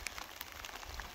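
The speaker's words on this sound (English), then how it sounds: "hopefully this rain eases, but it looks like it's set in" Steady rain patters faintly on a surface, with scattered droplet ticks and no voices.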